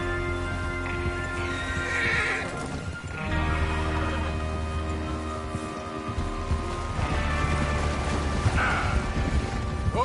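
Horses in the video game Red Dead Redemption 2 whinny loudly twice over a continuous rumble of hooves and background noise, the neighs rising sharply and trailing off.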